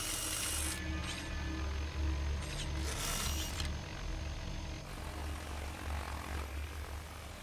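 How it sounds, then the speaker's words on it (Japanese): A drone whirs in the video game Dead Rising, producing a steady buzzing engine drone with brief bursts of brighter noise, continuous and fairly close for several seconds. "ドローンか。"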